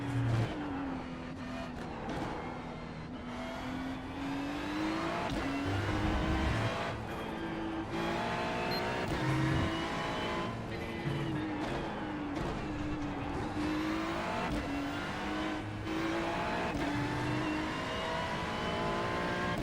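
NASCAR stock car engine in the iRacing sim at Kansas, a loud continuous roar that rises and falls with throttle and gear changes through the corners, near and steady across the whole stretch with no talking.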